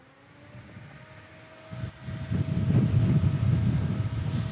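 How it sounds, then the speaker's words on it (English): An electric radiator fan runs on a 1961 Ford Galaxie, giving a steady whirring hum with a faint tone that swells louder about halfway through, with no talking. "You can hear the electric fan."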